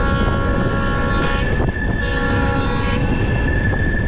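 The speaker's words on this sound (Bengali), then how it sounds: "দেখুন, ওই যে ট্রেনটা যাচ্ছে" A train on the Sealdah line passes with a loud, sustained horn blast over the rumble of its wheels, close by and continuous throughout.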